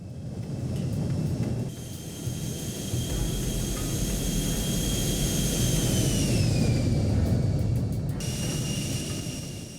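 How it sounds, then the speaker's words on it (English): A passenger jet, Azerbaijan Airlines Flight 8243 bound for Grozny, taking off: a loud, steady jet-engine roar with a high whine that bends downward as it spools, filling the whole stretch without voices. "At 7:55, Flight 8243 is cleared for takeoff."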